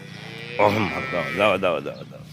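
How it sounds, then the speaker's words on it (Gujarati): Pregnant cows on a farm let out a few deep, drawn-out moos close by, several calls in quick succession. "આજે 7 તારીખની ગાયો 2 આવી છે"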